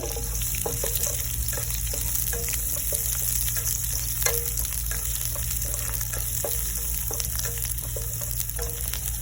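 Crushed garlic and fennel seeds fry in melted butter for Indian-style chilli shrimp, giving a steady, close, dense sizzle broken by light spatula taps and stirring clicks throughout.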